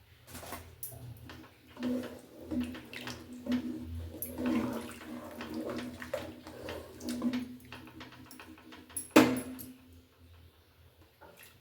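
Water splashes and swirls as it rinses a metal tempering pan, with scraping clatter, intermittent over several seconds and ending in a louder slosh.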